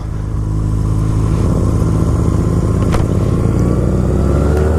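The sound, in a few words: Honda Rebel motorcycle engine after pop start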